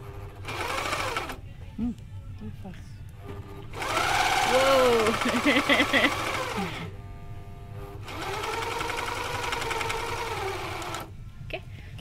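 A Semco 858 cover stitch sewing machine runs in several bursts of rapid, even stitching, close and fairly loud, with a whirring motor hum, pausing between runs while a person talks quietly in the gaps.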